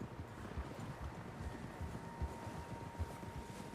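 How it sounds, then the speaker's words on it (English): Several horses' hooves clip-clop in an irregular rhythm on open ground in the Red Dead Redemption 2 video game, moderately close, with faint wind noise behind them. "Horses, quite a few of them."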